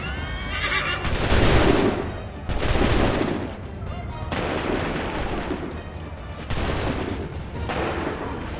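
In the Assassin's Creed III video game, soldiers fire volleys of gunfire in loud, dense bursts that roll and echo, with horses whinnying and hooves clattering amid the battle din.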